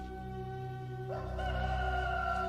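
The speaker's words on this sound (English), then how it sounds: "Immediately a rooster crowed." A single rooster crow rising over steady background hum, moderately close and clear, with no one talking.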